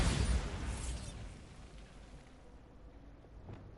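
A Bombarda spell detonates in Hogwarts Legacy, a loud burst at the start that rolls off into a long fading rumble and settles into a quiet wash.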